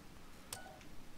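Short electronic hacking beeps from a smartphone in the video game Battlefield Hardline, a brief cluster of tones over faint low background noise.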